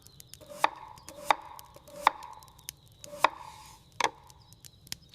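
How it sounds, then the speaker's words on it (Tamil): Potatoes being chopped into small pieces with a knife on a board, five or six sharp, evenly spaced chops close up with quiet pauses between. "சின்ன சின்ன துண்டா வெட்டிக்கலாம்."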